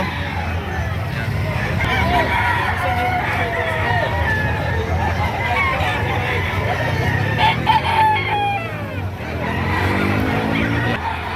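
Chickens and roosters at a livestock market cluck and crow, with one crow clearly rising above the steady crowd noise while people talk nearby.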